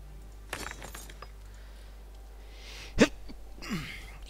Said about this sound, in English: Why do I always sneeze when I'm recording?